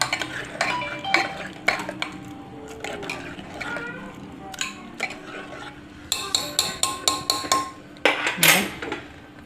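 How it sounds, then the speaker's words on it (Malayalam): Moloshyam curry gently mashed in a pan with a metal spoon, giving irregular clinks and scrapes of utensil on metal, denser toward the end, with faint bits of voice in the background. "ഒന്ന് പതുക്കെ ഉടച്ചു കൊടുക്കാം"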